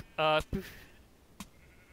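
Sheep in the Minecraft Engender mod gives a loud, close bleat, followed by short thuds of a fight and another brief hit sound.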